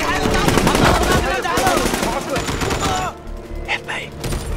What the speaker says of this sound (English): Transition to machine gun.